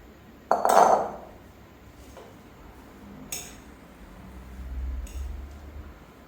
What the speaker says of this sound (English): I'm gonna put it into a bigger bowl to give it a nice mix